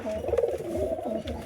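Pigeons in a crowded loft coo close by in soft, overlapping, throaty rolls that repeat in a low, steady rhythm.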